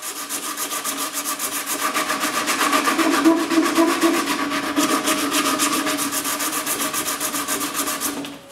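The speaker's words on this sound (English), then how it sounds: "Then I can complete the sanding." Hand sanding of a CNC-carved wooden shelf support, a rapid back-and-forth rasping rub repeated in a steady rhythm, close and loud, with no voices.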